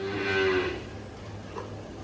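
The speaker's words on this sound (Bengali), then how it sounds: "সব গাই এখানে" On a cattle farm with cows and a buffalo, one cow lets out a single long, close, loud moo that tapers off into quieter barn ambience.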